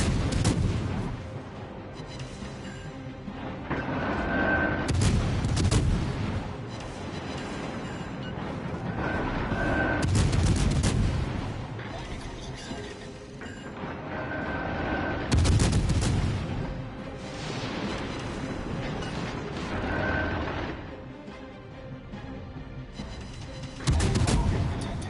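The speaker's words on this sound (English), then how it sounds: "now I can just sit here and just spam high explosive at this Bismarck" Naval guns booming in a World of Warships naval battle as high-explosive shells are fired at the Bismarck, with heavy salvos recurring roughly every five seconds over a continuous engine and ocean rumble.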